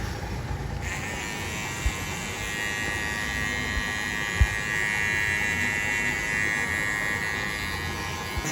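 An electric zero trimmer buzzes steadily and close up as it cleans hair from a barbershop customer's ears, a continuous motorized hum with faint changes in pitch as it moves, with a couple of small knocks.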